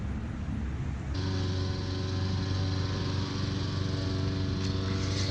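A lawn mower engine drones steadily in the background near a culvert fishing spot. The hum is continuous and fairly loud, with no talking over it.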